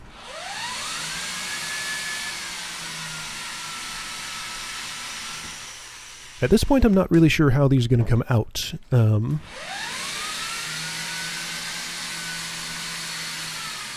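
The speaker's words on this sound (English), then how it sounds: "So just reverse the drill. It makes a very different noise going backward for some reason." A power drill running in reverse to back screws out of a wooden dance pad frame, whirring in short choppy bursts in the middle, with someone talking before and after.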